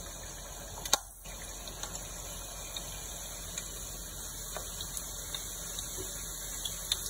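Pork tacos dorados, rolled and frying in a shallow layer of oil, give off a steady, even sizzle for the whole stretch, with one sharp pop near the start.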